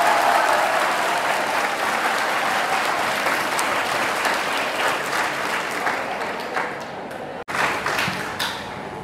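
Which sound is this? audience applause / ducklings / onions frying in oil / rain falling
audience applause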